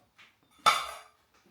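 A single bright metallic clink rings out as the lid of an ALOCS CW-C05 aluminium camping cookset is pulled off its pot, decaying over about half a second, with faint soft handling taps around it.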